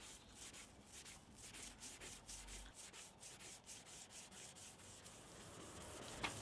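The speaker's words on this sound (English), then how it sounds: "I'm now polishing with foam pressure and, as far as practical, only moving left and right." A foam pad rubs over a Nissan Primera P12 car headlight lens during restoration with a Turtle Wax headlight kit, giving a steady, close, rhythmic swishing as it moves back and forth in even strokes.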